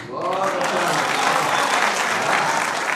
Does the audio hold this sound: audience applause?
yes